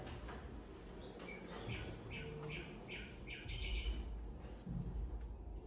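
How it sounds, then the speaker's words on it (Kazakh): Several birds chirp and trill in short repeated bursts over a soft background hiss, faint and somewhat distant. "Құстардың дауысын естіп,"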